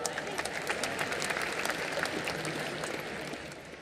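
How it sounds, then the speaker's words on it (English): A closing-ceremony audience at the International Film Festival of India in Goa gives a round of applause, a dense, even wash of clapping that slowly tapers near the end. "let's give a round of applause for Dr."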